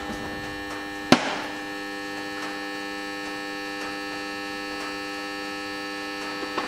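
A steady electrical mains hum comes from a drill's motor setup while it is plugged in, with one sharp click early on and the hum continuing evenly and alone.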